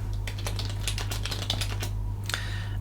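Keys on a computer keyboard pressed for a shortcut on a Linux desktop, a quick run of crisp, close clicks in an irregular rhythm, then a pause before a final pair of taps.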